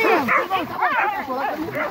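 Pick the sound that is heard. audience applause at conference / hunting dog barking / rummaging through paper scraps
hunting dog barking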